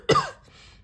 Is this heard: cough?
yes